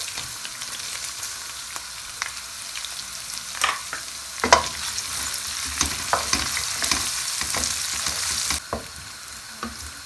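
Finely chopped medium onion fries in a pan for dhaba-style dal palak, a steady close sizzle broken by occasional spatula scrapes and clinks, continuous for about ten seconds with no talking.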